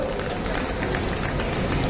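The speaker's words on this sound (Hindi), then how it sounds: "एक बार अपने लिए भी आप जोरदार तालियां बजा दीजिए।" An audience at an All India mushaira poetry night in Meerut claps in a dense, steady wash of applause mixed with crowd noise, holding at an even level throughout.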